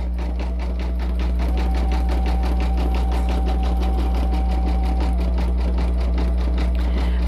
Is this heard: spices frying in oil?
no